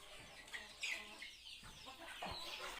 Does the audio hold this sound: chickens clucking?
yes